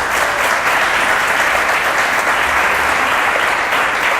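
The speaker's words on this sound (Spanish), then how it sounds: "Ok, démosles un aplauso a mis hermanos." A church convention congregation in Arauca, Colombia, gives a sustained burst of dense, loud applause from many hands that holds steady throughout.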